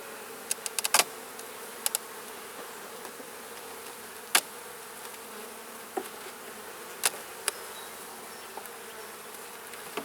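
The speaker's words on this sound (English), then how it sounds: "There's lots of bees in there, which is great," Honey bees hum as a steady dense drone inside a beehive super. A few sharp clicks and taps from the hive box cut through the buzzing.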